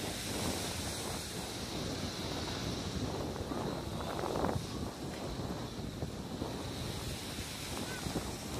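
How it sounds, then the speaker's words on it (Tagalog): Steady wind buffeting the microphone on Sharp Island beach, with rolling surf washing in underneath, a continuous broadband roar at moderate level and no clear speech. "Ayan, oh, mahangin."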